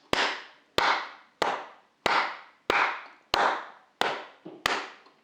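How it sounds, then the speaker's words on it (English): Eight single cupped-hand claps in a slow, even beat, each a sharp hollow pop with a short ringing tail, close and alone in a quiet room during a children's music lesson. "we're just going to clap them together like this"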